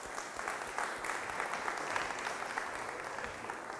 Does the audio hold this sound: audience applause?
yes